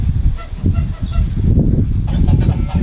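Geese honking loudly and close by in an early-spring forest garden, a flock calling over and over in overlapping bursts with a low rumble beneath.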